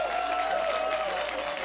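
A large esports arena crowd at IEM Katowice applauds in a dense, steady wash of clapping, heard at a distance beneath a sustained tonal hum.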